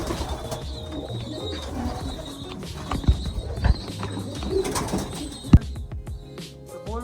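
Racing pigeons in a loft coo softly against a busy background with scattered bird calls, clatter and a few sharp knocks, with no clear voices.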